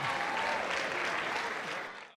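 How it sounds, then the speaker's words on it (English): Audience at a school farewell luncheon giving a round of applause, dense close clapping that holds steady for about two seconds and then stops abruptly. "Another round of applause to them."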